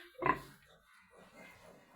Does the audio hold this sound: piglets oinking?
yes